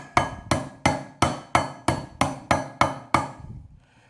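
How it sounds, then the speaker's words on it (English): Ten sharp metal hammer blows knocking out an old motorcycle wheel bearing, struck at a steady rhythm, close and loud, each ringing briefly before the next. "we're going to hammer that sucker back out."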